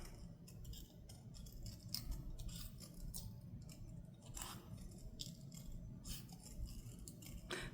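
Scissors snip through paper, cutting out a small paper medallion for a junk journal flip book: a string of close, crisp clicks and rustling cuts in an irregular rhythm with no talking.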